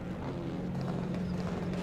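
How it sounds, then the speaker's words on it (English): TCR touring cars idle together on the starting grid at Rudskogen in a racing sim, a steady low engine drone with a faint burbling pulse and no voices. "We have the wonderful noise of these cars just idling over bit by bit"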